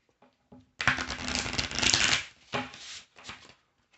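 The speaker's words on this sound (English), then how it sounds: "Let me shuffle up a bit more here" Tarot cards being shuffled in several quick riffling bursts, close and crisp, separated by short pauses.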